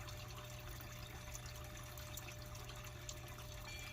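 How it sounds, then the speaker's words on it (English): A garden water fountain trickles and splashes steadily with no pauses, a soft continuous wash of running water alongside a low, constant hum. "So you should be able to hear this water here,"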